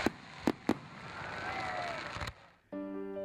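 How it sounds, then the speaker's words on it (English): An outdoor fireworks display bursts with three sharp, loud bangs in quick succession, then a hissing, crackling stretch and a final pop before the sound cuts off and a sustained musical tone begins. "followed by the best fireworks display in recent history"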